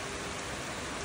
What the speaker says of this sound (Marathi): छान अशी हवा पण सुटलेली आहे आणि त्यात पाऊस पण येतोय